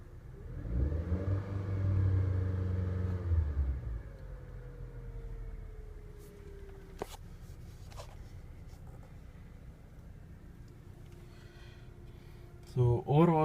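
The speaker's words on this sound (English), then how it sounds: "The engine is running at 1000 RPM approximately." Honda Jazz engine idling at roughly 1000 RPM, heard from inside the cabin as a low, steady hum, louder briefly at the start, with a person speaking over it.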